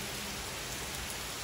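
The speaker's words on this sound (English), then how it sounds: "All right, so we are still on our walk, watching the rain." Steady rain falls outdoors during a walk with a dog, a dense, even hiss of drops hitting the ground that stays close and constant with no voices.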